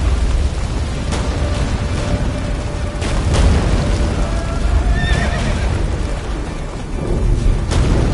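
Roach, a horse in The Witcher 3, whinnies amid a loud, dense battle din, with sharp booming impacts scattered through.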